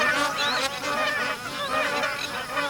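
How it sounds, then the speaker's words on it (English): Dense chorus of magpie geese honking continuously on a tropical floodplain, many overlapping calls close and loud with a faint insect-like buzz beneath, no voices. "Each year, more than 1 million pairs of magpie geese breed out on the floodplain."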